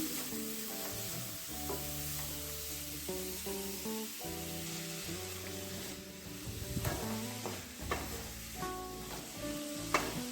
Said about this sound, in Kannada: ನೀರುಳ್ಳಿ ಚೆನ್ನಾಗಿ ಫ್ರೈ ಮಾಡ್ಕೊಳ್ಳೋಣ